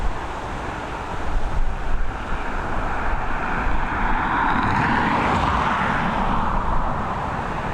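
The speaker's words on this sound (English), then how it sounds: "She's an Airbus A319 coming in from Chisinau, operated by High Sky." Airbus A319 airliner on arrival at Dublin Airport gives a steady, broad roaring rumble that swells and holds, with wind buffeting the microphone throughout.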